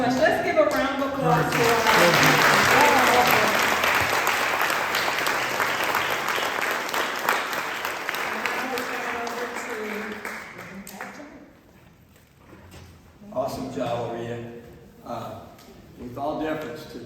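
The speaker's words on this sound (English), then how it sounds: "Let's give a round of applause to our" Applause from an audience at a faith and social justice gathering, loud, dense clapping that builds early, fades over several seconds and dies out, after which a voice begins speaking.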